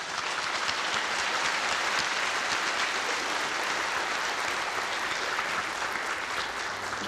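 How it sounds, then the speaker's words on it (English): An audience at the 2016 Tang Prize laureate lecture on sustainable development applauds steadily, with dense, even clapping that stays loud and full for the whole stretch and no voices over it. "please give them another big round of applause to thank them"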